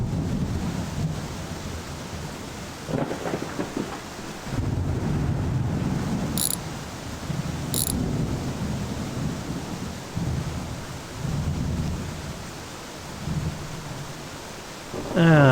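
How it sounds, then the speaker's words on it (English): Rumbling thunder rolls through a steady wash of rain and wind, with low booms swelling and fading over several seconds. "a major storm rolled in"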